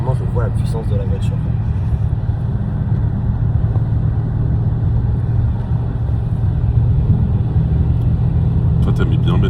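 An Audi RS7 C8 on the road, its engine a deep steady rumble beneath continuous cabin conversation, with faint clicks near the start and end.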